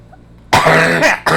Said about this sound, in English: I shouldn't be coughing this hard